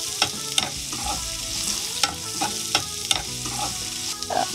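Finely chopped onions frying in oil for fish cutlet, a bright steady sizzle broken by sharp scraping taps of a ladle stirring the pan, close by and without voices.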